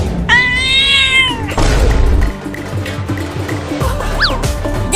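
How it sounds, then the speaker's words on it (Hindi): A cat gives one long, clear, drawn-out meow up close, then a short rising mew a few seconds later, over a steady rumbling background. "अरे वाह, वो रही एक बिल्ली।"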